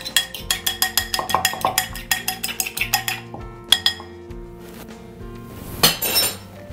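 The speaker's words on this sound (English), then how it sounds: "you just want to scramble the egg first." An egg is beaten in a bowl with a utensil, giving a run of rapid, evenly spaced clinks against the dish, then a pause and a few scattered knocks; close and clear, with no talking.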